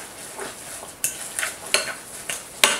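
A spoon scrapes and clinks through a thick granola bar mixture with chia and hemp seeds in a bowl, several distinct stirring strokes in an uneven rhythm, close and moderately loud.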